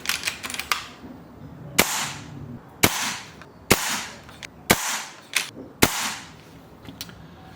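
A BRK Ghost high-power air rifle fires at power setting 15, each sharp loud crack standing alone, six or seven shots spaced about a second apart with quick echoing tails between them.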